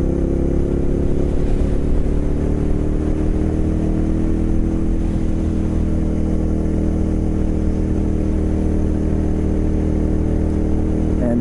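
A steady motorcycle engine drones continuously at an even pace, loud and close, with no speech and little change throughout.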